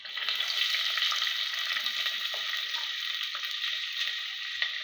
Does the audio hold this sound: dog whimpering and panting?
no